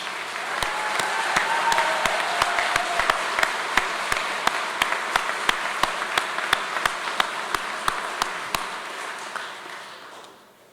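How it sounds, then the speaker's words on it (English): Audience applause at a naval nuclear power training unit graduation ceremony in Charleston, a steady crowd clapping that fills the hall with sharp individual claps, holding at an even level before tapering off near the end. "Please join me in a round of applause for our families, friends, and shipmates"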